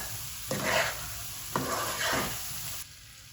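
Liver fries in a pan with garam masala as it is stirred through: a steady sizzle runs underneath, broken by two scraping stirs a second apart, close by with no voices.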